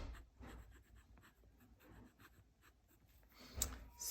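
An ink pen writing a title on paper, heard as faint, close scratchy strokes in short bursts, with a small bump near the end.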